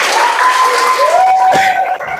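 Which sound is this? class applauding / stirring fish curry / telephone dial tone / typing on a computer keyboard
class applauding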